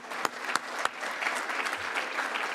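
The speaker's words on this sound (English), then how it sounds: "let's give a big round of applause to our" Audience applause at a Rotary club event honoring award sponsors, a steady wash of many hands clapping with a few sharper claps near the start, moderately loud and sustained.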